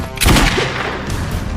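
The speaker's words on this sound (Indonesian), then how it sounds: "Untung saja ada Nora yang menembakkan pistol." A loud pistol shot in a film cracks out and leaves a rumbling, reverberant tail that fades slowly.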